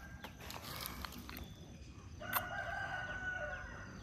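A rooster crows once at mid distance, a drawn-out call standing out over quiet farmyard background with a few scattered knocks and rustles before it.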